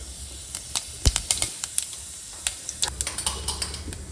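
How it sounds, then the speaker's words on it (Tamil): Mustard seeds and cumin crackle and splutter in hot oil in a home kitchen pan, a scatter of sharp pops and sizzles over a steady low hiss, close by with no talking. "கடுகு கொஞ்சமாக போட்டு கடுகு பொரிஞ்ச உடனே கொஞ்சமா சீரகம்"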